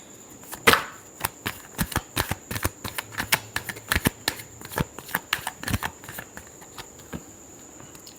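Playing cards are shuffled for a reading, giving a steady run of crisp riffling snaps and clicks at close range over about eight seconds, with a faint background tone and no talk.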